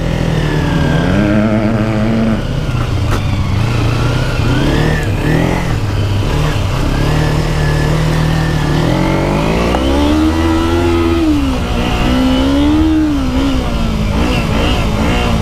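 A Kawasaki Ninja 250 converted for dirt riding runs off-road in the desert, its engine droning loud and steady with rising and falling revs throughout, close to the rider.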